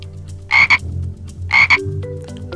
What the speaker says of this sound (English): I see a green frog looking at me.